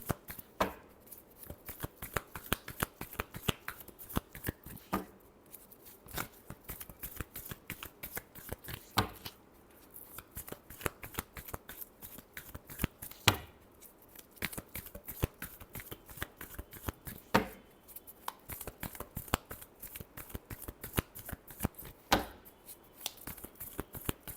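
Tarot cards are shuffled again and again in quick, crisp riffles and flutters, a near and fairly quiet stream of papery snaps lasting throughout, with no speech.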